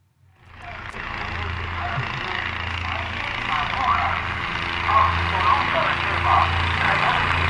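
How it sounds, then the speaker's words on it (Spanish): A police helicopter flies overhead above Bello and Medellín, Colombia, producing a steady broadband engine and rotor drone that rises in from silence and holds loud and continuous throughout. "el helicóptero de la policía realiza capturas, realiza patrullajes desde el aire"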